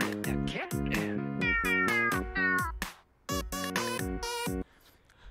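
A cat meows over and over in quick succession, a string of loud, close, tonal mews with brief pauses between bursts and no talking.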